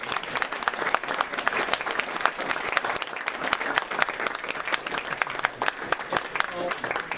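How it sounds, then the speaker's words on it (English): An audience at a talk on inequality by Yaron Brook claps in a thick, even patter of many hands throughout, moderately loud indoors. "So can we have a round of applause for"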